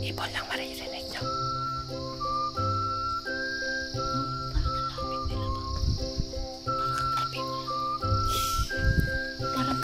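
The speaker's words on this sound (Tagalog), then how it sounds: "Parang katabi niyo lang yung mga birds" Birds calling on a forested healing mountain on Siquijor island, with clear whistled notes rising and falling over a steady dense buzz of insects, a continuous outdoor chorus without pauses.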